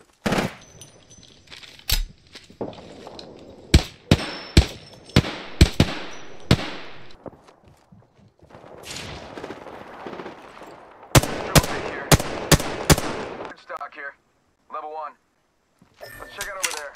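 Sharp bursts of automatic gunfire from Apex Legends crack out in repeated volleys, some spaced apart and some in quick succession, with a brief game voice and short electronic effects near the end.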